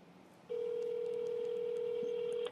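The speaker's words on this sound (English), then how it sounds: "That's two rings." A phone call being placed, with a steady electronic ringback tone droning continuously after a brief quiet lead-in, faint room noise beneath.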